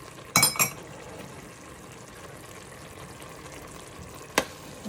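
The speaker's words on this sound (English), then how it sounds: "It's frying." Meat stew with ginger paste frying in a pot gives a steady soft sizzle, with a quick pair of metallic spoon clinks near the start and another later as it is stirred; no one speaks.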